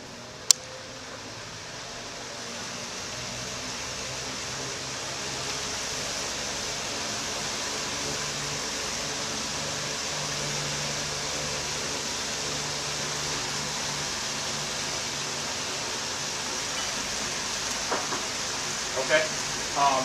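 Wind is blown onto a windbelt generator, giving a steady, even rushing hiss that builds slightly and holds for the whole stretch, with a few faint clicks near the end.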